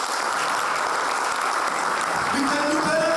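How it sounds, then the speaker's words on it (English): Steady, dense applause from a large audience at a men's church leadership conference, loud and continuous throughout, with a few voices rising over the clapping toward the end. "Gentlemen, let's give it a round of applause and help me welcome my pastor"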